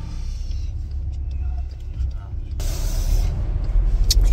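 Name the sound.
car driving from Kramatorsk to Kharkiv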